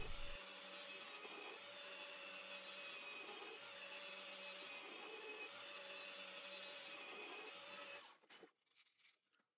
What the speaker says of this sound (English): Then I drill the holes to screw on the bottom part.